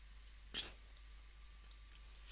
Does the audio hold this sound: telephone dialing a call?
no